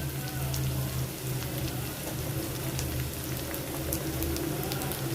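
Chopped onion sizzling in plenty of hot oil with ginger-garlic paste just added, for a spicy rohu fish roe bhuna; a steady, dense crackle and hiss continues throughout.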